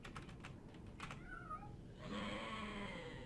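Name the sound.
cat meowing in video game Daggerfall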